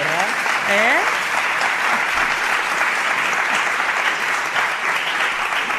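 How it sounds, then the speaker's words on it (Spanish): A live studio audience at a special 100th-episode podcast recording breaks into sustained applause, a loud, even roar of clapping that holds for several seconds while a voice briefly talks over the start. "Vamos a que den un aplauso para que se vea que estamos con público."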